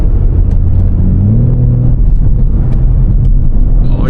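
Inside a BMW M3 Competition driven on the street, the engine drones loudly with a rising whine as it revs through downshifts, a steady close cabin rumble throughout.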